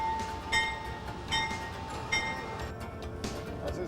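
A train rumbles on rails with a steady broadband roar, a sustained tonal hum and periodic brighter bursts of clatter, the sound continuous and close, with no voices.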